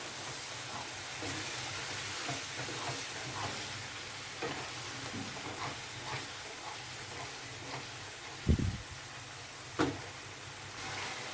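Masala sizzles steadily while being sautéed in a pan for green aloo dum, with a soft constant fry and a few louder stirring scrapes near the end.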